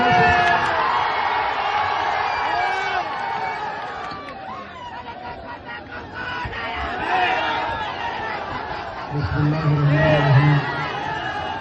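A large crowd at an AIMIM political rally in Bihar cheers and whoops in a loud, sustained roar, with voices and babble mixed in throughout.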